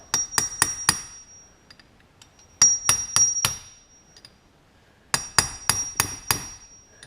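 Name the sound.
hammer driving out a bearing race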